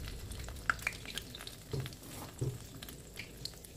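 Food frying in a pan until deep brown, a soft continuous sizzle with scattered small pops and light stirring clicks, close but faint.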